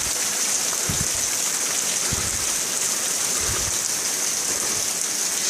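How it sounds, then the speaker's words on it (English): Heavy rain pours steadily onto a porch, a dense, continuous hiss of water with a few heavier thuds of drops near the microphone, unbroken and loud throughout. "you can at least see the river of water there, and probably some of the drops falling in front of the camera"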